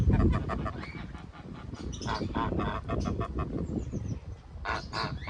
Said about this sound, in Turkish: Kazlar var.